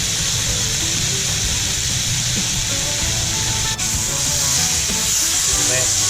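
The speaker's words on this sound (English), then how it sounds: "in the pan we go. Look at that, beautiful sizzle." A whole ribeye steak sears in a hot pan, giving a loud, continuous broadband sizzle and spatter that holds steady throughout with a brief crackle midway.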